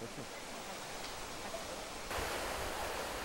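Water rushes at Yongso Falls in Jujeon Valley, Seoraksan, in autumn. A steady, hissing roar continues without a break and swells slightly partway through, with a narrator's voice speaking over it.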